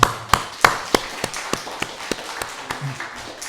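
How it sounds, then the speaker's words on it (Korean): A small church congregation claps after a prayer, sparse, evenly spaced hand claps that start a little louder and soften, with quiet room tone between them. "박수하겠습니다"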